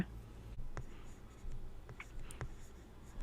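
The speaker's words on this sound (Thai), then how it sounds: "ลอกมาเขียนด้านล่างก่อนนะคะ" Handwriting with a pencil on a primary-school math worksheet, faint close scratching strokes with a few soft taps, heard quietly against a low background hum.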